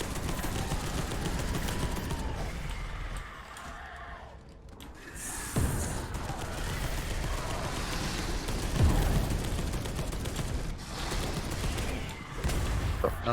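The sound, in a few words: assault rifle gunfire in video game Space Hulk: Deathwing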